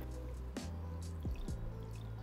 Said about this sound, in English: So I'm just gonna add some water to this pan so I can quickly blanch the Swiss chard.